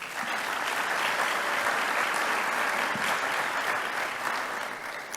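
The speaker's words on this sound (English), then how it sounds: "How about a round of applause for our parents?" Audience at a high school scholarship awards night gives the parents a round of applause, a dense, steady wash of many hands clapping for about five seconds, fairly loud and without speech.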